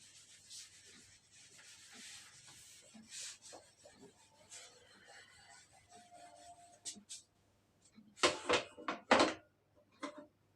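Writing being rubbed off a classroom board during a class 11 mathematics lesson on sets, quiet scraping strokes building into several louder, harsh rubbing bursts near the end.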